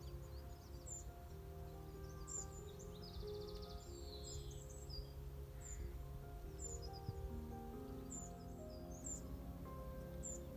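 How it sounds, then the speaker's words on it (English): Faint birds chirp and call intermittently in the distance in the morning at an allotment, over a steady low hum, with no talking. "It's lovely listening to the birds in the morning."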